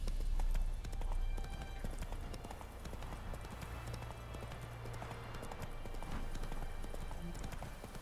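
Roach, the horse in The Witcher 3, gallops with a continuous rapid clip-clop of hooves under faint game ambience at a moderate level.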